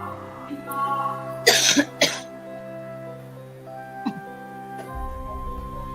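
A couple of sharp coughs in quick succession over steady background music, fairly close and loud.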